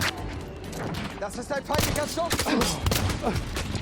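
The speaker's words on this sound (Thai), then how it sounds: "มันคือลูกซองนัดเดียวจริงๆเว้ยทุกคน" Single-shot shotgun blasts in Battlefield 1 punch through dense battlefield noise, with a few sharp broadband cracks spread across a few seconds while someone talks excitedly over the action.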